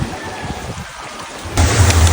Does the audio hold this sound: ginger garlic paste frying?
no